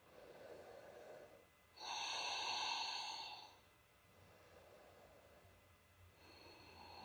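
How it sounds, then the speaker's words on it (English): During a lower-body yoga stretch, a single long, deep breath is drawn in and released, soft and close, then fades to quiet room tone before another faint breath begins. "Breathe here, breathe deep"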